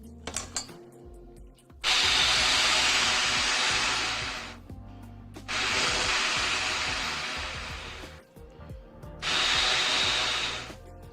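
Air blown through a trumpet with the mouthpiece on and no lip buzz, making three long breathy rushes of hiss, each a few seconds long, separated by short pauses, close and fairly loud.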